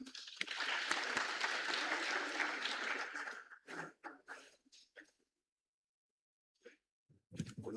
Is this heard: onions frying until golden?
no